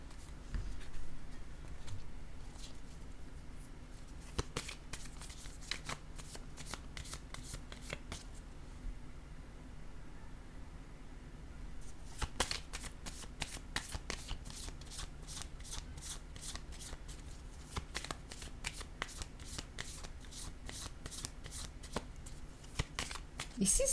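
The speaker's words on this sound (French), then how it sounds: "Je vais piger une autre carte." Tarot cards are shuffled and drawn by hand, a steady run of crisp riffling flicks and soft card slaps that goes on for most of the stretch, briefly thinning in the middle, with faint low room hum beneath.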